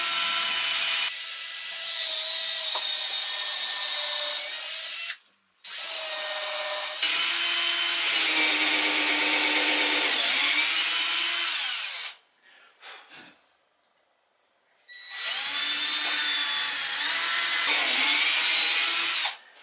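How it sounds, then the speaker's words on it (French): A power drill bores a perpendicular hole through plywood in three long, loud whirring runs with short gaps between, the pitch dipping under load, and no voices. "Je vais faire maintenant un trou aussi perpendiculaire que possible."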